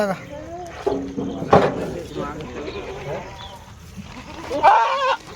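Goats at a crowded livestock market bleat loudly several times amid busy trader chatter, with one sharp, wavering bleat standing out near the end.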